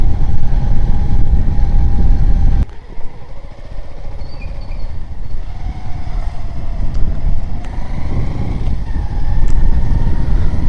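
A Bajaj Avenger 160 motorcycle rides along a village road. A loud, low engine drone sits under heavy wind rush on the microphone, with a brief dip partway through before the roar builds again.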